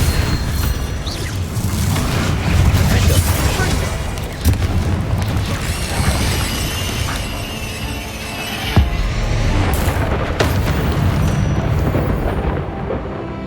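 Blasting spell explosions in the Hogwarts Legacy video game, a run of loud, deep booming bursts with sharp pops and rumbling debris, continuous and dense over game effects with no talk.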